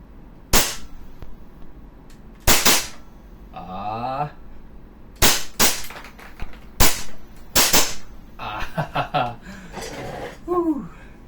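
An EMG STI JW3 airsoft pistol fires about seven sharp, loud blowback shots at uneven intervals, with short bursts of talk and a chuckle between them.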